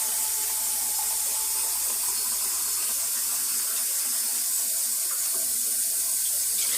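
Tap water running steadily into a cooking pot while preparing a steak dinner, a continuous bright hiss and splash with no pauses, close and moderately loud with no speech.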